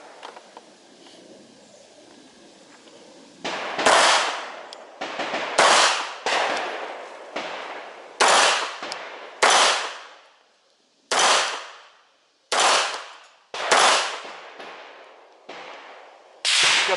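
A Mauser HSc pistol fires a dozen or so sharp, loud shots at an uneven, unhurried pace, each crack followed by a short ringing decay, with quiet gaps between.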